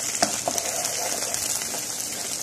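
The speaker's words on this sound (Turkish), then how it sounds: "Soğanımız kavrulmaya yakın 3 kaşık daha pul biber attık." Onions sizzle steadily in a pan with chili flakes, giving a continuous close crackle with small pops scattered throughout and no voices.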